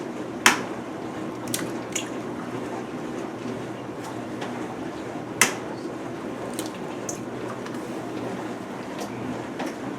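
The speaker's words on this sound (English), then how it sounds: "Give my hands a rinse." Kitchen tap water runs steadily while hands are rinsed beside a stand mixer, a soft continuous hiss with a few faint drips and light clatters close by.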